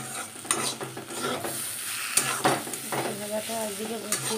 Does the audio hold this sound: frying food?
yes